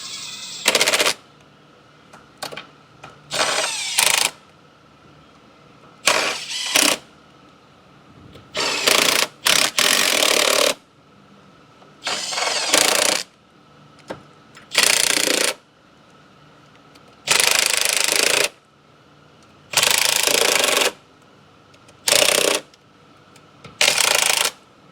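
Ratchet run in bursts to tighten and torque fasteners on a 5.3 LS V8 engine, with a dozen or so sharp, loud clicking bursts separated by short pauses, close up with no talking.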